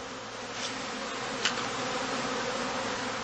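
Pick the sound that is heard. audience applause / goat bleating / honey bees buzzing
honey bees buzzing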